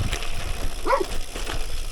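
A dog gives a single short bark or yelp partway through, fairly faint, over steady wind and road noise during a bike ride.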